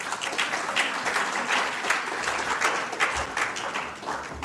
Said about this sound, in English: Another round of applause for Chairman